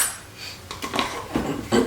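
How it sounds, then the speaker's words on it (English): A utensil clinks and scrapes against a bowl while baking soda, salt and other dry ingredients are stirred, a few short scratchy strokes, close and clear. "I'm going to go ahead and just stir those dry ingredients together"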